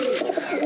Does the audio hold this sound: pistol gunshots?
no